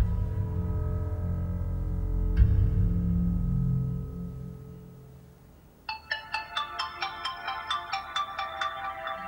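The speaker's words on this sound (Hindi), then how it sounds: "आधी रात को किसका फोन आ गया?" Mobile phone ringtone sounding at midnight: a bright, repeating electronic melody with evenly pulsed notes starts partway through and rings loudly alone after a fading stretch of dramatic background music.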